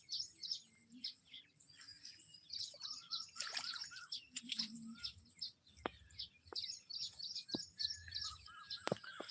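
Small birds chirp and twitter busily in varied short calls, with occasional sharp higher notes, moderately close against a quiet outdoor background.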